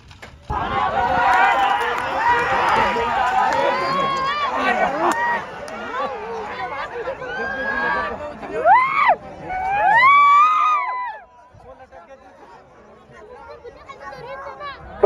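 Loud crowd at a bullock cart race in Maharashtra, a dense roar of shouting, chatter and cries that rises in bursts, then drops sharply to a quieter murmur near the end.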